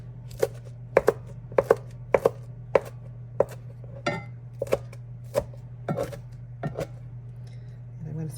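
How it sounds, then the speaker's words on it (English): A knife rough-chopping rosemary, sage and thyme on a board for Thanksgiving stuffing, sharp chops in quick pairs at first, then sparser and more irregular, over a low steady hum. "we're just going to give it a little bit of a rough chop here."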